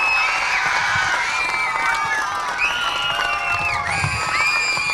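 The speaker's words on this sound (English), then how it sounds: "Another big cheer for Brodie and his mom and his brother" A live crowd at a Cops for Kids with Cancer event cheers loudly and continuously, with whoops and children's shouts mixed into a dense, steady roar of voices.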